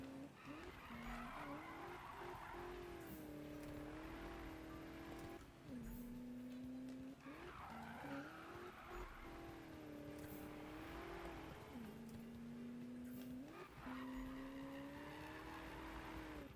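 A car drifts in Need for Speed 2015, its tyres squealing in long sustained skids over a revving engine, several sweeping slides in a row, fairly quiet and without talk.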